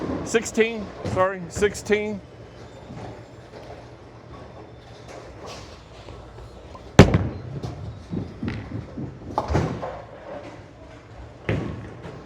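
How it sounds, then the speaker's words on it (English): Bowling ball slamming into the pins on a pocket hit during a practice session at a bowling alley, one sharp loud crash followed by a scattered clatter, with someone talking before and after. "I hit the pocket with that last shot"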